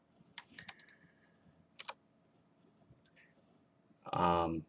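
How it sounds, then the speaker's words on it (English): Keys on a computer keyboard click in a few quick, light bursts, then a louder, fuller sound closes the clip, likely the press of the enter key. "pressing enter on the keyboard pushes the message to the SQS request queue"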